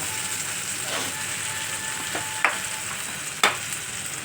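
Three kinds of dal go into hot oil in a frying pan for egg tarka and are stirred: a steady sizzle broken by two sharp, close scraping strokes of a spoon against the pan.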